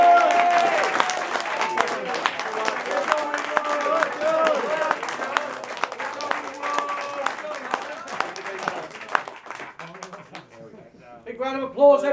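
Crowd at an outdoor political rally in Manchester applauds for several seconds, the steady clapping mixed with voices, cheers and chatter. The applause gradually tapers into scattered claps, and talk takes over near the end.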